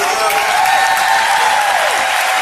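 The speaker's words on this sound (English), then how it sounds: "Everybody give them a round of applause." Audience applause from a live crowd at a motivational speaking event, a steady dense clapping that fills the whole stretch at full strength, with no voices standing out above it.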